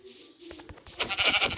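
Goats bleat in a video game world: a few short, nasal bleats rise in quick succession, followed by a louder, busier burst of bleating. No one speaks.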